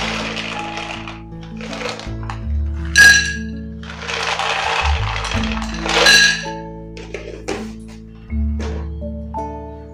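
Raw, unroasted peanuts tumble into a kadai, making a burst of dry clattering and rattling, with further scattered clinks as the nuts settle, against a low background hum.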